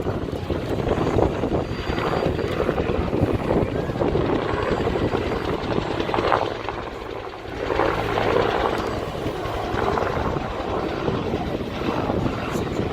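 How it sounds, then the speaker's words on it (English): Bell UH-1 Huey helicopter in flight, a dense continuous rotor thrum and turbine roar with steady chopping texture, fairly loud and sustained throughout, fading slightly midway before returning. "The sound of just one Huey is impressive enough."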